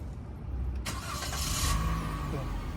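A car engine cranks and catches, a brief whirring surge that settles into a low idle, heard from nearby against background noise.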